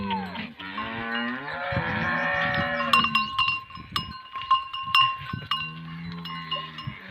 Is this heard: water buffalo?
yes